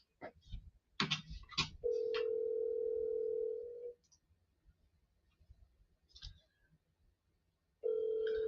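A telephone call goes unanswered: clicks of dialing give way to a steady, loud ringback tone lasting about two seconds, a quiet pause, then the tone returns.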